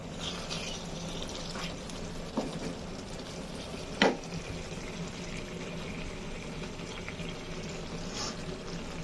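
Food being stirred and fried in a home cooking pan: a faint, steady sizzle with a soft watery hiss and a couple of brief scraping knocks from the utensil, with no voices.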